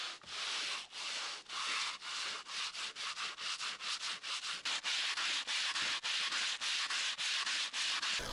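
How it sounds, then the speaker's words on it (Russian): Rhythmic rasping strokes of a float and sandpaper levelling a row of aerated concrete blocks, close and steady, dozens of quick back-and-forth passes with no talk. "После высыхания прошел поверхность первого ряда теркой и наждачкой для выравнивания."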